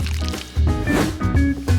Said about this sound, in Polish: Wlejmy miód też do środka.